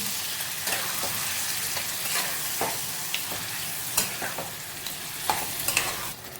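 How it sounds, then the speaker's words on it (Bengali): Marinated chicken for biryani sizzles in a pan over a lowered gas flame while being stirred, a steady close frying hiss punctuated by irregular scraping knocks of the spoon. "এবার লো করে দিচ্ছি গ্যাসের আঁচটা, এবার ভালো করে দিয়ে মিশিয়ে দিচ্ছি।"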